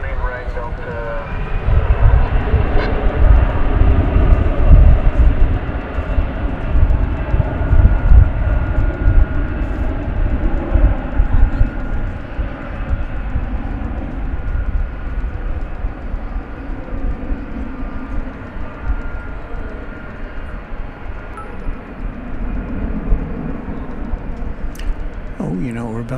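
A Delta airliner lands on the runway at DFW Airport at night, a loud, broad engine roar that swells and then slowly recedes into a long rumbling wash, with talking over it.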